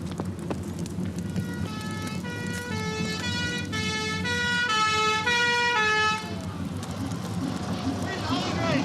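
Fire engine siren wails in rising and falling sweeps as the truck arrives at a burning building in an arson case, loud and close over background rumble and voices.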